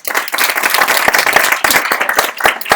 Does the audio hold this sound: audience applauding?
yes